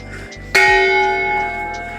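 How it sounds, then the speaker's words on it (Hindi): A single loud strike of a large temple bell at an ancient temple in Simraungadh, Nepal, rings out after quiet background murmur, its bright metallic tone sustaining and slowly fading. "ये एक बड़ा सा घंटी है। चलिए उसको बजा के दिखाते हैं।"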